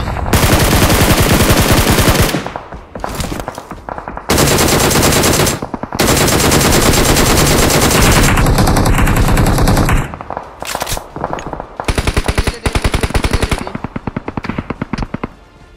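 Rapid machine gun fire from a battle-royale video game match rattles in long, loud, sustained bursts, broken by a few brief pauses and quieter stretches.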